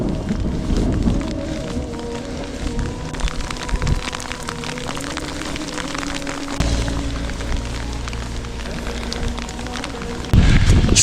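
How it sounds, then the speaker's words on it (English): Heavy rain falls during a bicycle ride up toward Gulmarg in Kashmir during a thunderstorm: a dense, steady hiss and patter of rain, loud and continuous, mixed with low rumbling wind noise and no voices. "7 kilometers to go and it's raining quite heavily."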